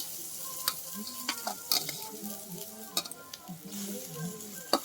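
Raw cut prawns drop into a pan of sizzling spiced masala for a Bengali steamed prawn dish, bringing a steady close fry with scraping stirs and sharp utensil clinks throughout.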